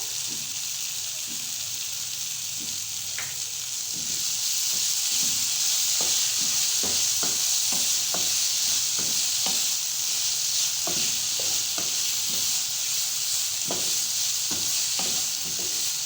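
Chicken sandwich filling cooking in a pan, a steady sizzle running throughout with repeated short scrapes and clicks of a spoon stirring, close and fairly loud, with no talk.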